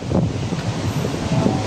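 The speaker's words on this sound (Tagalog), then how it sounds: "lumakas yung hangin guys." Strong wind buffets the microphone with a steady low roar and rumbling gusts, close and loud, with no one talking.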